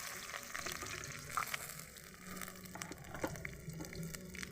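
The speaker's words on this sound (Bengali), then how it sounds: "তেজপাতা শুকনো লঙ্কা আর পাঁচ ফোড়ন আর জিরে একসাথে ফোড়ন দিয়ে" Bay leaf, dried chilli, five-spice and cumin temper in hot oil with a faint, soft sizzle broken by scattered small pops and stirring clicks, quiet and close.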